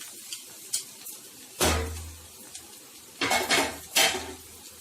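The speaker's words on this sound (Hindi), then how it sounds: "इसको अच्छे से मिला देना है तरीके से।" Leftover chapati noodles and vegetables get tossed in a pan with a utensil, making several sharp clanks and scrapes of metal on the pan between quiet gaps, close and fairly loud.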